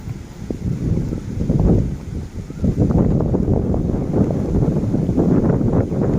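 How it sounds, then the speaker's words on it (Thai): Steady, roaring wind buffets the microphone at a railway stop on Thailand's southern line, a dense low rumble that gusts louder partway through and stays strong to the end. "ลมแรงจริง ๆนะครับ"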